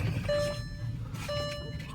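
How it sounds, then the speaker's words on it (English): Seatbelt warning chime inside a 2006 Volkswagen Touareg AWD SUV: two clear, evenly spaced electronic tones sound near and moderately loud over low cabin rumble. "let me get my seatbelt on here until it stops beeping at me"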